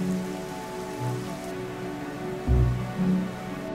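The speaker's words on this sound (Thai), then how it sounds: "ฝนกำลังตกอีกแล้ว ฝนจะทำให้ผืนดินนี้แย่ลงอีกเท่าไหร่กัน" Rain falls steadily on the ground as acid rain during a volcanic disaster, a continuous close patter and hiss with a couple of louder low thumps near the end.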